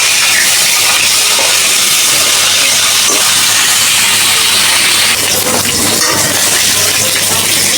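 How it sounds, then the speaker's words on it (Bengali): A rohu fish head fries in hot oil, giving a loud, dense, continuous hiss and crackle that runs close and unbroken throughout, easing a little near the end, with no voices. "এখন আমি মাছের মাথা দিয়ে দিলাম। এখন আমি ভালো করে ভাজা নেব।"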